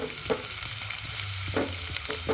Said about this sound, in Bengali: সাদা তেলটা একটু গরম হয়ে গেলে এর মধ্যে দিয়ে দেবো আমি রসুন বাটা